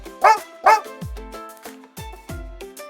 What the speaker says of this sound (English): A dog says woof and loves to play.